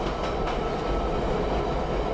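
A steady, loud rumble of an R68A Q subway train running toward Brighton Beach in the OpenBve train simulator game, a continuous dense roar with faint rhythmic wheel clatter and no talking.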